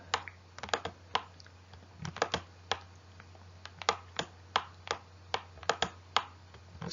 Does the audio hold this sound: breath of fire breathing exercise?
no